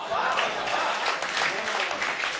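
Audience applause at a Hindi poetry recital, a steady wash of clapping that holds throughout at moderate loudness with no voices over it.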